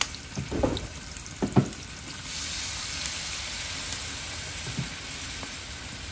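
Mutton masala roasts in a pan, giving a steady close sizzle. A few louder scraping stirs come early on, with occasional clinks over the continuous frying hiss.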